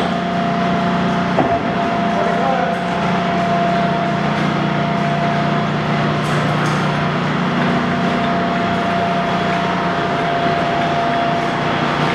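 A heavy-duty Axelson 39 by 108 inch engine lathe of about 16,500 pounds running at 45 RPM, a steady loud mechanical drone and hum with a faint tonal whine, continuous throughout with no talk.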